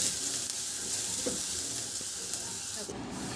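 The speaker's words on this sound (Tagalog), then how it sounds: "Sa disim na kawali, nagdagdag ako ng kunting mantika at igisa ko na yung bawang." Garlic sautés in a little oil in a pan, giving a soft, even hiss of sizzling with a few faint scrapes and no break in the sound.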